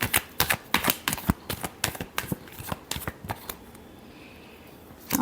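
Tarot cards are shuffled up close in quick, crisp riffling bursts, a rapid run of papery flicks that stops for a moment near the end before one last snap.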